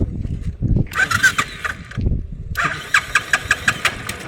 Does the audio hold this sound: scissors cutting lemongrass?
no